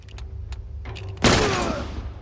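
A single loud gunshot rings out in The Last of Us Remastered, a sharp close blast with a ringing decaying tail, preceded by a few faint clicks and taps.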